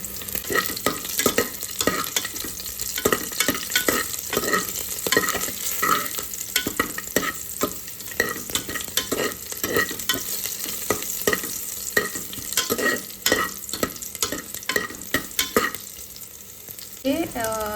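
Red chillies frying and being stirred in a pan for mango chitranna: a steady close sizzle with repeated scraping spoon strokes, rising in rhythm toward the end, with no speech.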